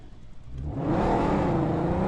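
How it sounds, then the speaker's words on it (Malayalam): A PUBG vehicle engine revs up and pulls away, the whirring roar building from a low rumble to a loud, sustained drive within a couple of seconds, with no voices over it. "ഒരാൾ വണ്ടി എടുത്തിട്ട് പോവിടുന്നു"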